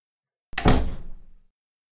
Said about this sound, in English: I'm going to open and then close the door